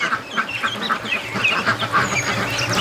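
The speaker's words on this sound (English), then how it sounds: "That's a whack of ducklings." A large crowd of newly hatched ducklings peeps continuously inside an egg incubator, a dense chorus of high chirps with steady, pulsing calls filling the space at close range and no talking.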